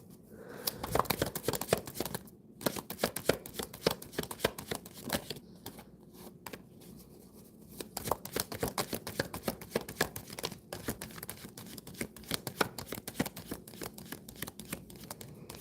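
Tarot cards being shuffled and drawn from a deck, a steady run of quick riffling flicks and soft slaps, close and fairly loud, with no talking.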